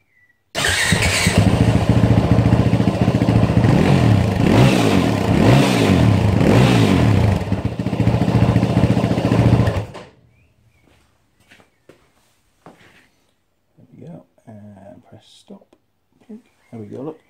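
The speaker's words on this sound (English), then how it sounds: "So I'll press play and go and start the bike." A motorcycle engine starts and idles loudly for about nine seconds, revving slightly, then cuts off abruptly, leaving quiet room noise with brief talk and handling sounds.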